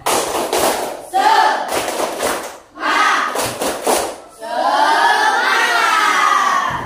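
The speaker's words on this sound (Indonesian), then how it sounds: "Yuk, biar nggak terlalu fokus, kita tepuk semangat." Schoolchildren do a rhythmic spirit clap with loud shouting in a classroom, with bursts of clapping and chanting in short phrases and brief pauses, ending in a sustained group shout.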